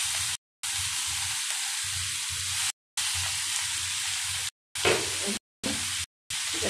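Red amaranth greens sizzle in a frying pan, a steady crackling hiss broken by several short silent gaps, fairly quiet and close, with no talking.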